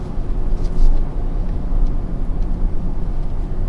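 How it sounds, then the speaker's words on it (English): Cabin of a 2021 Mercedes-AMG GLE 53 Coupe cruising in comfort mode through a neighborhood, a steady low engine and road rumble with faint tire hiss, fairly loud and continuous with no talking. "let's put it back into the comfort mode as we are driving in a neighborhood."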